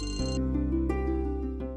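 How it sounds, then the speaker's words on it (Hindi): A phone ringtone plays a steady electronic melody with sustained tones, loud and close, with no talking. "पीची का फोन"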